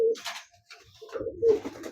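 Imported Teddy pigeons coo close by in a few soft, throaty bursts separated by short pauses, with no talk.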